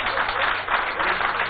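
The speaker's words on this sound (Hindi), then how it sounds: "ताली मत बजाओ" Sustained, dense clapping from a large crowd at a patriotic gathering honouring a Kargil war hero, steady and fairly loud throughout without pause.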